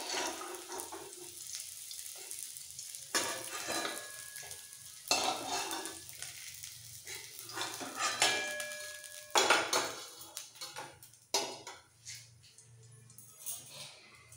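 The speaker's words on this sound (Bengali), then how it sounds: "সব মাছগুলো ভাজা হয়ে গেছে, তুলে নিচ্ছি" Fried rohu fish pieces are lifted from sizzling oil in a kitchen pan, with scraping and clinking of a spatula against metal over a steady frying hiss, louder bursts recurring every few seconds.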